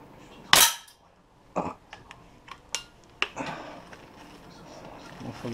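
Gunshots from an airsoft-style gun fitted with a red dot sight, one sharp loud crack followed by several lighter, irregularly spaced pops and clicks, with faint background noise.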